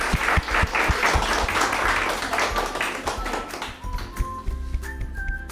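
An audience at a celebration for NEET 2020 achievers applauds in a welcome: dense clapping with sharp, scattered claps up close that loosens and thins toward the end.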